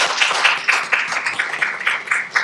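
A church congregation clapping in welcome for a new member, a brief burst of quick, uneven applause from a modest gathering indoors, fairly close, with no talking over it.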